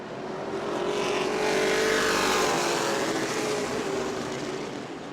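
Race cars in a Hoosier Series event at New Smyrna roar past on the track, a loud continuous engine drone that swells and fades as the field passes.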